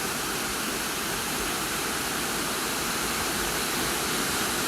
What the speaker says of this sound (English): There's two prongs of water coming down over the falls, which is crashing down white over the dark rock